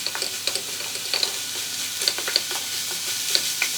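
Ivy gourd frying with masala in a pan, a bright continuous sizzle broken by frequent spatula scrapes and small clinks against the metal.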